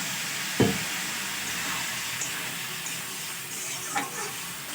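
Ground spices fry with a little water in a pan for a village-style fish curry, giving a steady close sizzle with a short clink near the start and light stirring scrapes.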